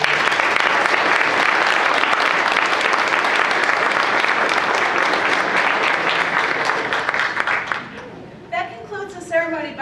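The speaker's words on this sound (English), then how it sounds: "please give yourselves a round of applause" A ceremony audience at a SUNY Cortland civic engagement leadership awards event applauds loudly and steadily for about eight seconds, then the clapping fades out as a voice begins speaking.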